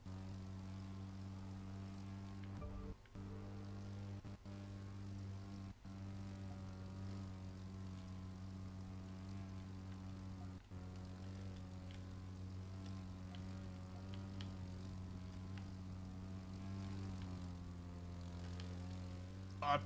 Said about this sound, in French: Donc là, basse altitude, c'est en avion.